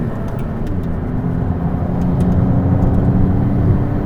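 A Maserati MC20 sports car on the Sepang race track gives a loud, steady engine drone that swells slightly midway, with no voices.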